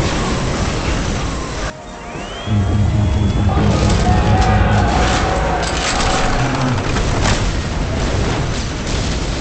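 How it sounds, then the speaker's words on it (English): Grenade explosions in the Warhammer 40K Soulstorm battle game, a loud booming blast followed by rumbling bursts and continuous combat noise, with no clear voices over it. "Let the grenades fly!"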